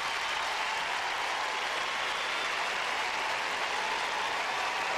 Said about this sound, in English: listen to the crowd roar.